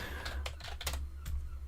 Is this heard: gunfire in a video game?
no